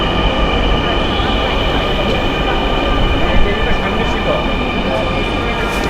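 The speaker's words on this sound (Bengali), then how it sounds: "বলতে বলতে আমাদের মেট্রো রেল চলে এসেছে।" A Dhaka metro rail train pulls into a station with a loud, steady rumble and rail noise, faint wheel squeal and a high whine above it, filling the whole stretch at close range.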